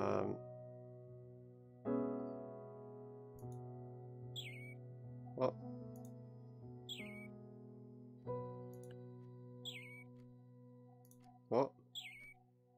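Little birds in the puzzle game Samsara Room give short high chirps, a few brief tweets scattered over a soft sustained musical backdrop, with a voice speaking briefly near the end.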